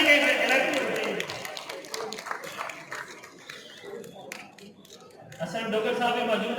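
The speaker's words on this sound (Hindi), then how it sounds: "भरपूर तालियां जनाब अमानत अली साहब मुजारत व्हाट्सएप की" Clapping from an audience at an award presentation during an Islamic calligraphy exhibition: a burst of scattered claps early on that thins out, while someone talks over the clapping.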